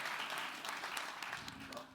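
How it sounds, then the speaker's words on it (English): Audience applause at a talk on media and gender equality, a dense steady patter of many hands clapping close by and filling the whole stretch at an even level. "Let's give her a round of applause."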